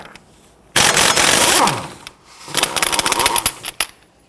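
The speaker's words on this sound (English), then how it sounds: "Using a 30mm socket, loosen and remove the axle nut." On a Toyota Camry, an impact wrench with a 30mm socket buzzes hard and loud at the front axle nut in a long burst, then a second rattling, stuttering run as the nut spins loose.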